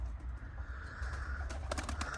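Tumbler pigeons at their coop give low, soft coos over a steady outdoor rumble, with a few brief brighter flutters near the end.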